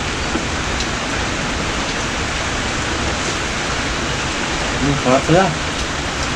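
Steady rain falling outdoors beside muddy fish-catching ground, a loud even hiss filling the whole stretch, with a brief voice speaking near the end.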